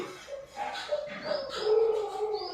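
Dogs bark in short yips mixed with whiny, high whimpers, fairly close and continuous for a couple of seconds.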